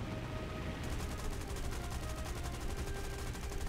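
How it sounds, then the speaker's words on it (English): Rapid machine-gun fire in War Thunder aircraft combat, a dense continuous rattle of loud gunshots with a brief pause near the start, then steady repeated bursts at close range. "our machine gun, we overloaded it. So let's start tapping here a little bit"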